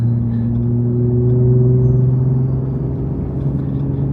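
Toyota Tundra truck with an AWE Tuning OFG catback exhaust, a steady deep engine drone with a slowly rising tone as it cruises or accelerates on the road, close and continuous with no talk.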